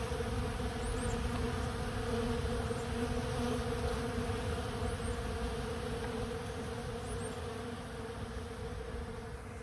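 Honeybees buzz around a beehive in an apiary, a dense steady hum from many insects nearby, continuous and alone with faint background tones.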